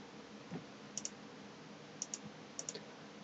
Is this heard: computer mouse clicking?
yes